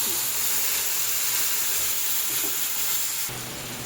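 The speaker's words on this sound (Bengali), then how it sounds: "এবার যেই সর্ষের পেস্টটা আমি তৈরি করে রেখেছিলাম সেটা আমি দিয়ে দিচ্ছি" Mustard paste sizzles loudly in hot oil tempered with black cumin, a dense continuous frying hiss that eases slightly near the end.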